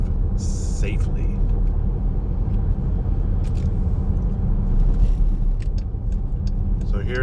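Car interior while driving along a residential street in Lake Havasu City, a steady low road rumble and engine drone with occasional light rattles and clicks.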